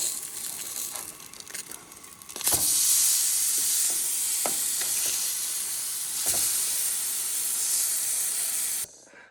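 Food sizzles in a cast iron skillet with a loud, steady hiss that swells after a couple of seconds and holds, with a few soft clinks, before cutting off near the end.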